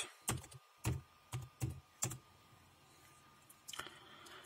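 Keys on a computer keyboard being pressed to type a password, a handful of separate sharp clicks spaced irregularly, then a short burst of quicker taps at the end, close and otherwise quiet.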